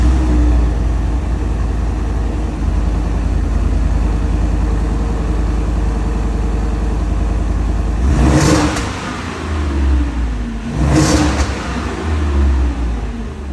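Deep rumbling V8 engine of a 2025 Ford F-150 Lobo truck idling loudly nearby, then two sharp revs that swell and fall back to a throaty idle.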